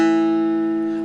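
A two-string cigar box guitar sounds both strings together as a single sustained chord, clear and close, ringing steadily with a slow decay.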